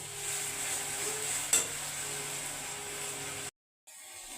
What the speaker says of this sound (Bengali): এই মশলাটা এবার কষ্টে কষতে যেন এবারে মাখামাখি হয়ে যায়